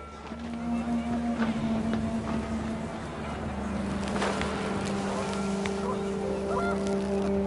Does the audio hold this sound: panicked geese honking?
yes